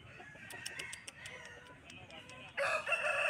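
A rooster at a village poultry market clucks in quick repeated bursts, then breaks into a loud, close crow near the end over a busy background hum.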